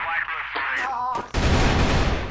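Gunfire in the shooting game Crossfire breaks out as a dense, loud, continuous burst of shots about halfway through, after a short stretch of a voice talking.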